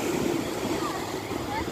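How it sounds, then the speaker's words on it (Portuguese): Strong wind buffets the microphone on a beach, a steady roaring rush with surf-like noise throughout the short stretch. "O vento aí tá... tá meio forte."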